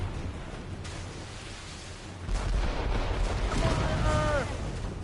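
Naval cannons on a sailing ship in Assassin's Creed Rogue fire in a heavy booming volley that rolls into a sustained rumble, with shouted voices and background noise throughout.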